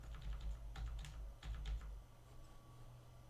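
Computer keyboard keys tapped in a few quick clusters over a low hum, soft and close, then the tapping stops and only the faint background hum is left.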